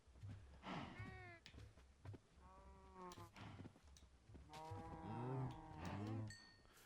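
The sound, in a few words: cows mooing in Minecraft video game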